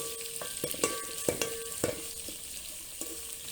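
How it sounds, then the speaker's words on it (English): Small omena fish fry in a pot while a cooking stick turns them, a soft continuous sizzle broken by a series of close wooden scrapes and knocks at an uneven rhythm, with no voices. "keep turning it using your cooking stick"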